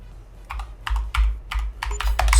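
Rapid computer clicking during a game comes as a burst of sharp, close clicks in an uneven, hurried rhythm, some in quick doubles, with no talking.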